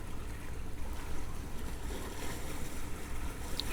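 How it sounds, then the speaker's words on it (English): Steady broadband wash of surf rolling in at Fulton Harbor at sunrise, with wind buffeting the microphone throughout and no voices. "that way we get to hear the sound of the waves"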